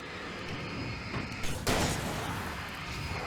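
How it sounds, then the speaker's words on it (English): A flashbang grenade goes off in Alan Wake Remastered, one sharp burst that rises out of steady game background noise and dies away quickly. "I should just throw a flashbang in there, huh?"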